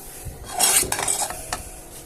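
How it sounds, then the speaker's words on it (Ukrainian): A silicone spatula scrapes and clinks against a pan of marshmallow over low heat in a few short strokes, close and fairly quiet, with no talking. "За допомогою силіконової лопатки ми час від часу перемішуємо наш маршмеллоу, щоб він став м'який."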